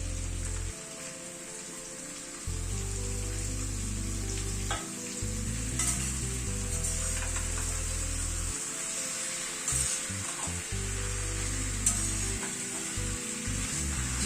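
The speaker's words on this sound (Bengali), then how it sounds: "এবার চিকেনটা দিয়ে দিচ্ছি।" Chicken pieces go into a hot pan with potato and green papaya for a thin curry and fry with a steady, close sizzle, broken by a few stirring scrapes and clatters.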